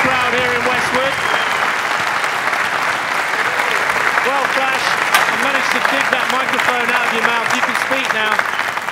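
A crowd at the 2013/14 squash World Series Finals in Westwood applauds and cheers loudly after a long rally, sustained clapping under excited commentary voices throughout.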